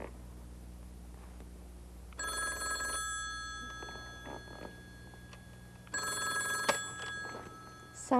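A telephone ringing on the line during a call, two bursts of electronic ringing separated by a pause over a low steady hum.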